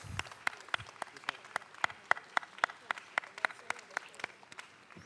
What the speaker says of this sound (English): Let us honor them with our warmest applause.